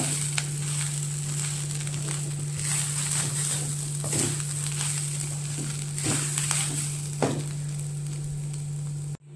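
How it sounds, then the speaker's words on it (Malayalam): A sizzling mixture being stirred in a pan until roasted, with a steady crackling fry, repeated scrapes and knocks of the spoon against the pan, and a low electrical hum beneath. "നന്നായിട്ട് ചോക്കുന്നതോടെ വരെ തുടരെ ഇങ്ങനെ ഇളക്കിക്കൊണ്ടിരിക്കണം"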